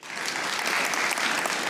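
Studio audience applause on a comedy talk show, a steady dense clapping from a full room lasting under two seconds, loud and close with no voices over it.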